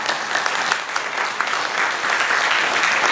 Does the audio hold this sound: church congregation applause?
yes